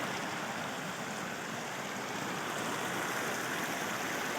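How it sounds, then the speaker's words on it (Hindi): Icy glacier-fed mountain stream on a high mountain route, heard as a steady, dense rushing of water that stays even and fairly near throughout, with no voices. "ये देखें झरने, कस्सियाँ छोटियाँ छोटियाँ, सोना सोना पानी, शीशा चमकना पानी।"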